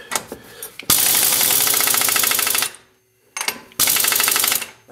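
Impact wrench set to forward spinning a 32 mm wheel nut onto a 2002–2006 Honda CR-V during CV shaft work, two loud rapid hammering bursts, the first about two seconds long and the second shorter, with a brief pause between.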